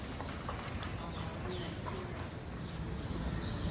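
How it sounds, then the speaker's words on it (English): Hooves of a pair of gray mules clip-clopping on a street in downtown Vicksburg, Mississippi, a steady, moderately near beat under busy outdoor traffic and street noise. "You see a pair of gray mules"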